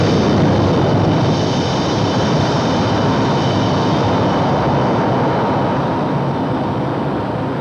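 A propeller airplane drones steadily and loudly throughout, a dense continuous engine roar with no pauses and no voices.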